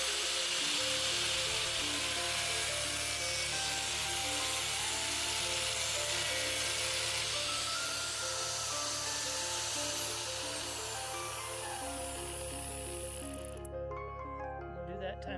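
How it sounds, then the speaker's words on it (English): A grinder cuts off a protruding metal part below a flange while building a foldable campervan table, a loud continuous whine that holds steady and then drops in pitch near the end. "we're going to take a grinder to this and cut that out."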